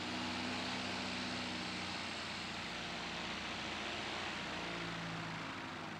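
An ATR turboprop airliner drones steadily with broadband engine and propeller noise at an aero club airfield, loud and continuous throughout.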